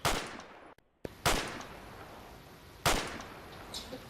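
Gunfire from the tactical shooter game Project Reality during clan training: three loud, close shots, each with a short ringing tail, separated by brief pauses and one moment of near silence.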